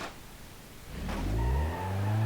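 A damaged ETK 854td in BeamNG.drive pulls away, its engine rising from a low idle into a loud, building rev that holds steady near the end.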